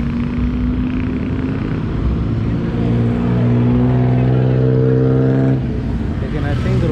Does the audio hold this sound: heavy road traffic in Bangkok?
yes